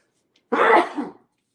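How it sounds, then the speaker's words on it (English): A single sharp sneeze burst, loud and close, lasting under a second and followed by a short trailing breath, with silence around it. "one moment, please, while I sneeze"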